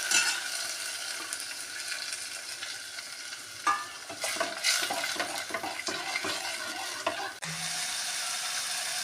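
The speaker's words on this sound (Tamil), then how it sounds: "பின்பு தக்காளியை கையால் நன்கு பிசைந்து வைத்து அதனை பாத்திரத்தில் கொட்டி நன்றாக வதக்கவும்." Mashed tomatoes sauté in a pan for tomato rasam, with a continuous loud sizzle broken by rapid scraping and clattering stirring strokes in the middle.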